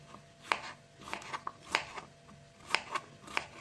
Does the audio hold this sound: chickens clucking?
no